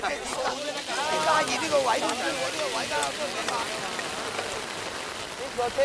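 Dense heavy rain patters steadily on surfaces while people building a brick tower at a village festival talk and call out over it.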